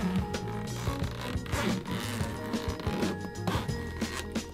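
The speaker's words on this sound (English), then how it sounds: "And then we've got a zipper." Zipper on a drone carrying case being pulled open, a long run of rapid ratcheting zips in several pulls, close and fairly loud, with light handling noise in between.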